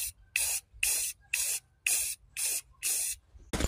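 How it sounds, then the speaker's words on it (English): A spray can paints engine parts in six evenly spaced bursts of sharp close hiss, each about half a second long with short pauses between, followed by the start of a seventh. "grab something you don't care about and start spray painting it"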